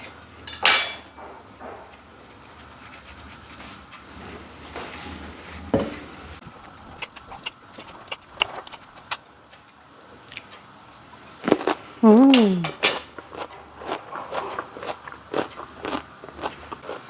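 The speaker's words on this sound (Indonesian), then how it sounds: "Ini langsung dipotong aja." A knife cuts a cucumber for breakfast in a home kitchen, giving scattered crisp crunchy chops with small clinks and a louder burst of clatter near the end, over a quiet background with no talk.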